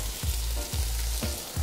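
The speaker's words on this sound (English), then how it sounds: "Now you want to leave it on a low heat for about 5 minutes, okay? And let this butter beans cook through" Butter beans with thyme and garlic cooking in a pan over low heat, a steady close sizzle and frying hiss with soft rhythmic stirring thumps recurring every half second or so.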